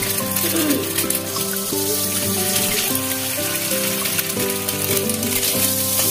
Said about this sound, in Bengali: আমি এবার ডিমটা একটু ভেজে নেব।